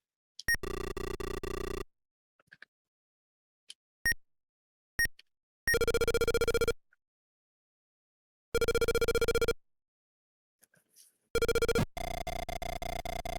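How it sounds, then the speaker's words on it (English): Tones from a phone being dialed in the 1983 Famicom detective game Portopia Serial Murder Case: short chiptune beeps, then several long buzzing electronic tones separated by silence, loud and clear with no talk. "So I guess dial that on the phone?"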